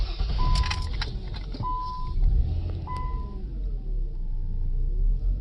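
A 2000 Nissan Maxima with a newly replaced starter, heard close up as keys jingle and a chime beeps three times, followed by a low engine rumble that carries on steadily to the end.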